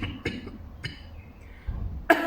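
A woman coughs a few times, short and close, with quiet pauses between the coughs.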